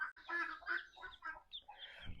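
A hen in an unfinished coop gives a run of soft, throaty clucks and murmurs, fairly quiet and close, with a faint low thump near the end.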